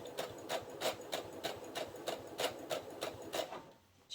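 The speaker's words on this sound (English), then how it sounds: "So now I'm going to stitch this side." A sewing machine stitching along the side of a mitered fabric corner, running in a quick, even series of about a dozen close mechanical clacks before stopping, heard alone at low level.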